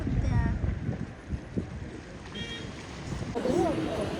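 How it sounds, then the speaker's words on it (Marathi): Steady wind blows outdoors on a sunny afternoon by a creek near the sea in Mumbai, a broad rushing noise with gusts, while people talk intermittently over it. "मस्त वारा सुटलाय"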